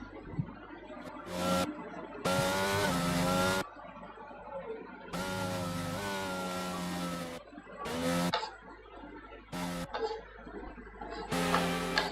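Race car tires slipping and squealing in the F1 2022 game on the Jeddah street circuit: loud, repeated bursts of shrill, engine-laden noise that come and go over a steady hum, heard alone with no talk.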